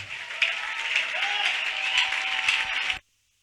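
A church congregation applauds and cheers in acclaim of Jesus, steady dense clapping and crowd noise for about three seconds before stopping abruptly.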